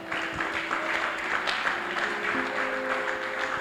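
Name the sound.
congregation clapping in church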